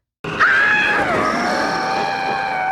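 A woman in a scene from the Sleepaway Camp horror film screams for her life, blindfolded and being buried in dirt; the scream is loud, sustained and wavering, continuing without a break.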